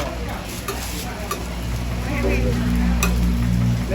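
Chive cakes frying in oil at an evening market stall, a steady crackling sizzle with occasional sharp pops and a low continuous rumble underneath.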